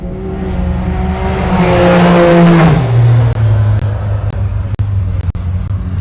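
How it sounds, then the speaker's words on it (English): A Rotax Can-Am Maverick X3 side-by-side races past at a desert rally, its engine loud and close, rising to a peak and then dropping in pitch as it goes by, with sharp clicks near the end. "Luke Muddy absolutely flying today in his Rotax Can-Am Maverick X3."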